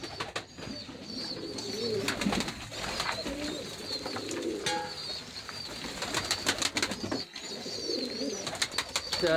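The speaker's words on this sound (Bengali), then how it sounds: "এটা দেশীয় জাতীয় কবুতর, মাঝে মাঝে বোম্বাই কবুতর রয়েছে।" Native-breed pigeons coo in a pigeon house, soft repeated throaty calls from birds close by, with occasional brief wing sounds and no talking.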